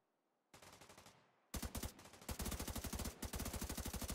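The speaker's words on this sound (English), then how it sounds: "Oh, we're hearing gunshots." Bursts of automatic gunfire in a Division 2 video game: a short volley, then loud, rapid, continuous rattling shots that stay close and dense to the end.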